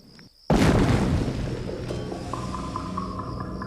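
A loud explosion set off in a staged UFO crash test in the desert bursts in suddenly and then rumbles and crackles as it decays, with fizzing sparks and fireworks-like pops trailing after the initial blast.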